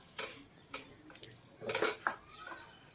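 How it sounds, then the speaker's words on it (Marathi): A spoon scrapes and clinks in a pan while a semolina and potato vada mixture is stirred, giving a few faint metallic taps and scrapes. "असं परतून घ्यायचं आहे पूर्ण रवा हा छान असा मिक्स करून घ्यायचा आहे"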